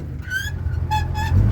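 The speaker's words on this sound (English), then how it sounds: "Squeaky clutch pedal." Squeaky clutch pedal in a 1953 GMC five-window pickup truck, several short high-pitched squeals in quick succession close to the microphone, over a low engine rumble inside the cab.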